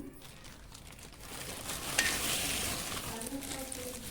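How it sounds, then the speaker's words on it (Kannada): Cashews and raisins sizzle and crackle in melted ghee for rava laddu, with stirring scrapes in the pan; a quiet, close frying hiss that swells midway and keeps going. "ಇವಾಗ ನಾನು ಇವಾಗ ತುಪ್ಪ ಕರಗ್ತಾ ಇದೆ ನಾನು ಗೋಡಂಬಿನೂ ಮತ್ತು ದ್ರಾಕ್ಷಿನೂ ಹಾಕೋತೀನಿ"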